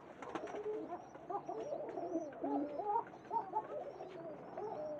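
Absi and Kalkan pigeons coo softly and close, overlapping throaty rolling calls that rise and fall continuously with faint chirps above.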